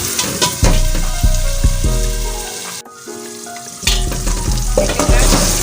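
Onions and chopped tomatoes frying in a pan, a loud, steady sizzle and crackle close by that briefly drops away, then returns at full strength.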